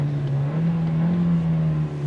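A 2023 Hyundai Verna turbo petrol sedan with a DCT gearbox revs at a standstill, a steady droning engine note that rises slightly and settles, heard from inside the cabin without talk.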